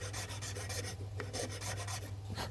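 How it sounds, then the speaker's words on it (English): A file rasps back and forth across the back side of a button, a close, steady scraping rub in quick repeated strokes with a faint low hum underneath. "you're filing the back side of the button"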